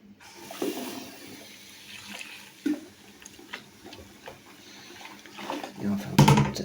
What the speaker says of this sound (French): j'ai rincé mon bac.